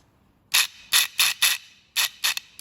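An Audi A4 EGR valve motor is powered directly and whirs in seven short, sharp buzzing bursts with brief gaps between them, close and fairly loud, with no voices.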